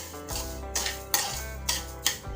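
Sugar melting in ghee for fresh coconut chikki is stirred in a pan, with a spoon knocking and scraping the metal in repeated close strokes.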